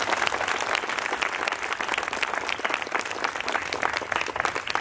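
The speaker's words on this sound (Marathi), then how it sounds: "आधी सर्वांनी सुरुवातीला या मुलींसाठी जोरदार टाळ्या वाजवा." An audience at a farewell ceremony for pre-recruitment police trainees in Usgaon claps loudly for a group of girls, a dense continuous applause that stays strong throughout.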